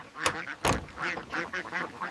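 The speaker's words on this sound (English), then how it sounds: "The door opens and the Welsh Harlequin ducks come out in their characteristic, unhurried way." Welsh Harlequin ducks quack in a farmyard, a string of short nasal calls, a couple sharper and louder early on, then quieter overlapping chatter.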